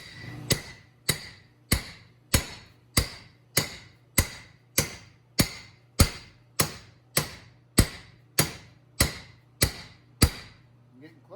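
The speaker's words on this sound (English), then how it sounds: "I'll just hammer that on there" A new rear differential bearing on a 2004 Ford F150 is driven on with a homemade hammer made of pipe with a welded cap: about nineteen sharp metallic strikes in a steady rhythm, close and ringing, with no talk.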